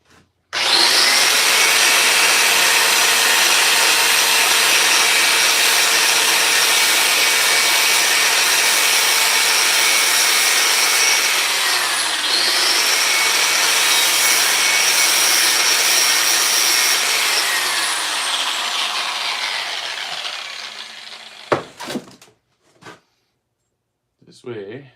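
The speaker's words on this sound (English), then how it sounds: "I'm just going to touch it real quick with the grinder." An angle grinder grinds weld spatter balls off steel armour with a loud, steady, close high whine that holds for about twenty seconds, dips briefly once midway, then winds down, followed by a few short clatters.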